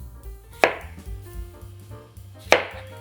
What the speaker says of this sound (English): we're gonna take our knife, and what I do is I just kind of cut around the core